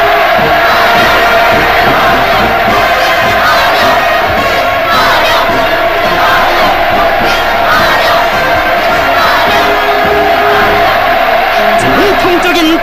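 A huge crowd cheers and roars continuously in North Korea during Russian President Putin's visit, a loud, sustained wall of massed shouting and chanting voices.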